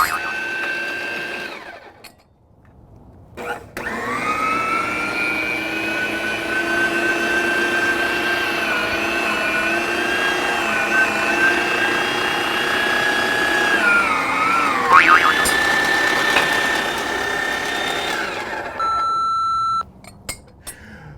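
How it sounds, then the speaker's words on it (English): An electric meat grinder works through very cold chunks of brisket and chuck, its motor holding a steady droning whine with strained pitch dips as pieces feed in, closing with a short electronic beep. "you definitely want to grind very, very cold meat. So let's get this fired up."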